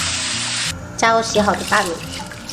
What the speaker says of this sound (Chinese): 然后倒入清水